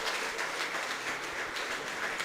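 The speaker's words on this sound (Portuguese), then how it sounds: "E as palmas bem alegres para o Senhor Jesus" A church congregation claps cheerfully in praise of Jesus, a dense and steady wash of many hands that carries on throughout with no speech over it.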